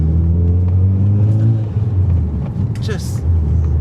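A Mitsubishi Evo X engine revs under light throttle, a deep steady rumble with crackles and pops, loud and close, while someone talks over it.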